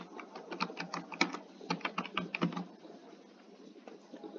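Fingers tap quickly on a computer keyboard in a quiet room, with a crisp burst of clicky keystrokes that trails off into silence after about two and a half seconds.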